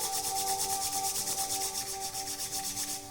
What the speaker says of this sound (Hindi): धीरे धीरे दोनों हाथों को रब करेंगे